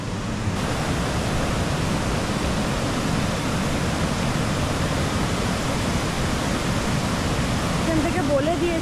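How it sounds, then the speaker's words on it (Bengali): Bhatinda waterfall rushing continuously as a dense, loud, even roar of falling water, with no breaks across the whole stretch. "আজকে সাইট সিনের দ্বিতীয় গন্তব্যস্থলে আমরা চলে এসেছি, ভাটিন্ডা ওয়াটারফলস।"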